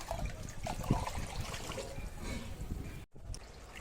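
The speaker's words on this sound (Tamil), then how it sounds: "அந்த அளவுக்கு நம்மளுடைய செடிகளுக்கு நம்ம தண்ணி ஊற்றணும்." Water pours steadily onto potted rose plants, a continuous trickling splash for several seconds with a brief break near the end.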